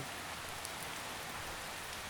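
Steady rain hisses down evenly, a dense continuous patter without pauses or other sounds.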